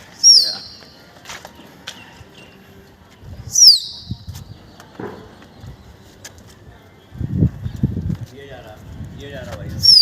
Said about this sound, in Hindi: गया भाई कबूतर दोबारा।